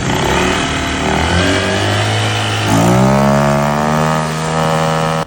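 A CVT scooter engine, freshly cleaned and fitted with new lining assembly and bell, idles and then revs up steadily, loud and close, holding a high whine before easing back.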